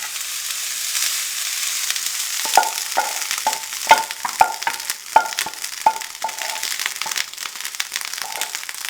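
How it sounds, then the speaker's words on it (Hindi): Cold leftover rice from the fridge crackles and sizzles on a very hot tawa griddle with the flame switched off, a steady frying hiss broken by sharp pops and scraping clicks. The sound is close and loud, with no voices. "फ्रिज वाले चावल इसके ऊपर हम डाल देंगे"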